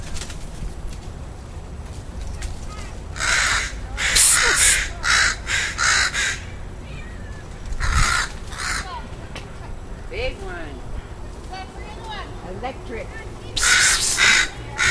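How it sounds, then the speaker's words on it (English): Crows caw loudly and repeatedly from a tree as a cat climbs up to attack them, harsh clustered calls in bursts, with someone shouting over the commotion outdoors. "That's the first cat I've ever seen that's gone into a tree to attack a crow."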